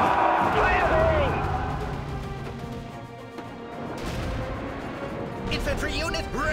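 Artillery firing in the World War II strategy game World War Armies, with heavy booms and crashing blasts mixed with battle noise while voices talk over them.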